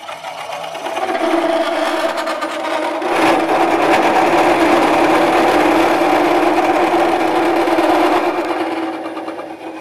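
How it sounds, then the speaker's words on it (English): Air blast clearing wood shavings from between the swivel plate and support block of a Woodcut Bowlsaver bowl-coring tool on a lathe, a steady hissing rush with a machine-like whine running nearly continuously for about ten seconds. "I'm blowing away the shavings that have got stuck between the swivel plate and the support block"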